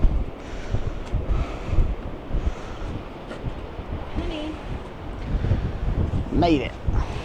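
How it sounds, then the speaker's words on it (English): Gusty wind buffets the microphone atop the Tower of Hercules, a lighthouse in A Coruña, Spain, as a steady roaring rush with a few louder gusts, while a person speaks briefly near the end. "Oh, it's going to get windy."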